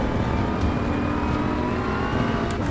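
A BMW M4 engine in Assetto Corsa Evo at the Nürburgring drones steadily at high revs throughout, a continuous loud whir with only subtle shifts in pitch.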